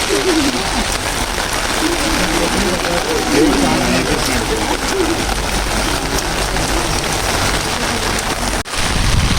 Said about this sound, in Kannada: ನೋಡಿ, ಮಳೆರಾಯನ ಆಗಮನ